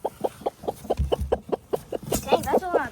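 Backyard chickens cluck in a steady rapid series close by, with a low thump midway and a few louder squawks toward the end.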